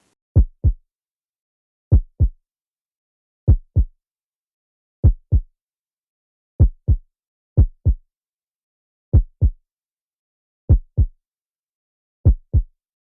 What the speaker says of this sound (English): Finally, add a heartbeat sound effect.